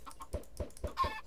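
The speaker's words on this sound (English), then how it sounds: "So let's get some chickens rolling in here." Chickens in a video game give a few soft, quick clucks in a faint, rhythmic patter, with no talking over them.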